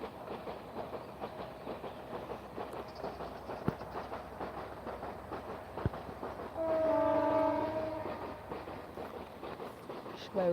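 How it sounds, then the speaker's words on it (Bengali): A Bangladeshi train passes at a distance with a steady rumble and clatter, and a single sustained horn blast sounds partway through while a voice talks faintly. "আমাদের বাংলাদেশের ট্রেন যাচ্ছে এখন"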